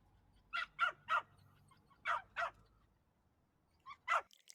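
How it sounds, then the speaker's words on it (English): Six sharp dog barks spaced in three uneven groups, moderately close and clear against a quiet background with no talking. "It is a dog."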